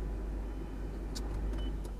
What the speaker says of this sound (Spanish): Estoy en mi carro